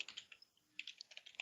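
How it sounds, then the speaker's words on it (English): Someone types on a computer keyboard with quick, light clicks that come in bursts around a short pause. The typing is faint and close by. "GLewis, your keyboard's really loud."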